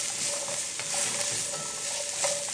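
Stew vegetables stirred together with celery leaves and thyme in a cooking pot, a steady wet sizzle with soft scraping strokes running continuously, fairly close, with no talking.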